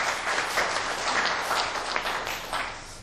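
Applause from the audience at a humanities lecture for a Korean labor union, a steady, moderately loud wash of many hands clapping together with no clear individual beats, lasting throughout.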